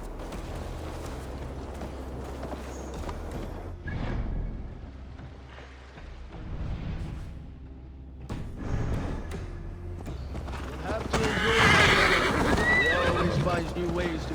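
A horse ridden in Assassin's Creed Valhalla snorts and whinnies, with clip-clop hooves and tack noise, while voices talk over it and a louder neigh swells near the end.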